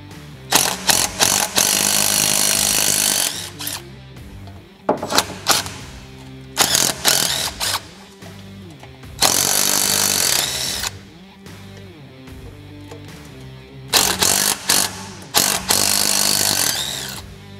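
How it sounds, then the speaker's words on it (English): A power tool spins out four 8 mm bolts from a UTV muffler on a Yanmar utility vehicle, several loud whirring bursts of a few seconds each with short pauses between them, close up. "we want to remove these 4 8-millimeter bolts"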